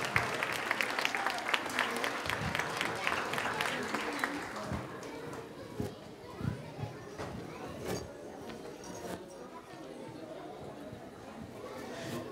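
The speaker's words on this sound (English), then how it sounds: "How about another round of applause for all these students?" An audience at an elementary school winter program applauds the students, loud clapping for about five seconds that thins into scattered claps and murmuring chatter.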